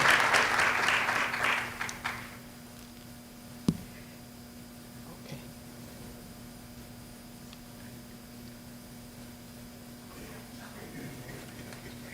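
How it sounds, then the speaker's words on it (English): Applause at a school board meeting for a marching band, a burst of clapping from the audience over the first two seconds that fades out, then a quiet room with a few small knocks. "Let's give the Marching Tiger Pride another round of applause."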